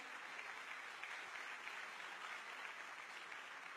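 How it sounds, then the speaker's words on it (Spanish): An audience at a Panamanian university forum on Decree 130 applauds the panelists with steady, dense clapping that sounds faint and distant, continuing without a break. "Señores, un fuerte aplauso para nuestros panelistas."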